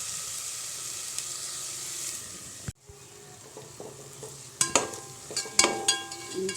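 Ginger and garlic sautéing in a pan for South Indian green peas rice, with a soft steady sizzle, a brief break, then clinking, scraping stirs over the frying.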